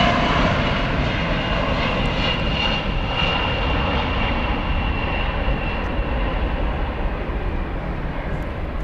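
Boeing 747 jet engines at DFW Airport give a loud, sustained roar with a whining tone, holding steady and easing slightly as the aircraft passes.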